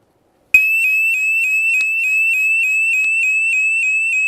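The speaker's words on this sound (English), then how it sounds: "there's a little light that will flicker and the alarm will start sirening" SimpliSafe home security base station sounding its alarm siren, a loud piercing electronic tone that starts abruptly after a brief silence and holds steady with rapid pulsing, alone with no talk.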